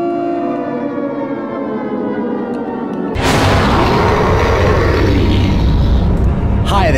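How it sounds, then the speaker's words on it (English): A loud wailing siren in the video game Indagar, with layered harmonic tones droning steadily, then a sudden burst of heavy roaring noise crashes in and continues over it. "That siren is obnoxious."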